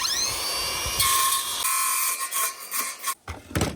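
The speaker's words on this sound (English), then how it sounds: "I'm just gonna use the saw." Power saw cutting scrap pallet wood: a high whine spins up, bites harder into the board, then cuts out into a fading drone broken by short scraping bursts and knocks.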